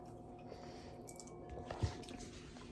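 Soft, close chewing of a salted hard-boiled egg, with faint moist squishing bites, one slightly louder bite near the middle, all very quiet under a low background hum.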